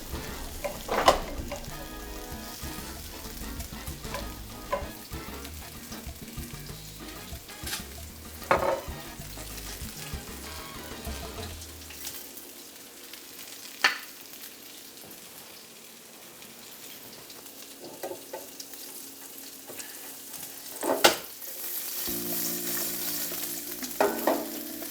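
Asparagus fries in a hot pan, a continuous crackling sizzle with occasional clatters of utensils, quieting midway before sizzling up again.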